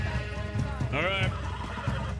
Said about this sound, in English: Mills, stop the horse!